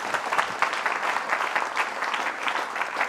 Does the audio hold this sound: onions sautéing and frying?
no